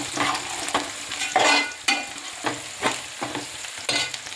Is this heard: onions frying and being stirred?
yes